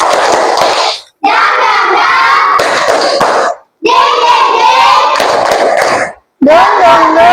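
A group of children performs the tepuk semangat clapping chant, loud rhythmic claps mixed with shouted sing-song chanting, coming in bursts of about two seconds separated by short silent gaps.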